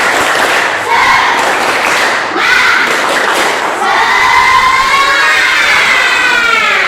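Pupils in a classroom perform a loud clapping chant, patterned group claps mixed with shouting children's voices that swell into a cheering crowd toward the end.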